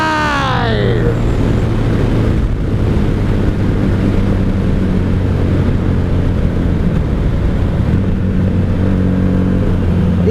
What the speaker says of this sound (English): These Magnas are fun to run around. The heart of a sport bike V4 engine.